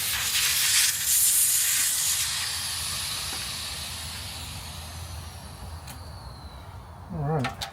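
Air hisses out steadily as Airlift airbags inside the coil springs of a Jeep Gladiator are bled down, loud at first and slowly tapering, with a few brief clicks and a short rattle near the end.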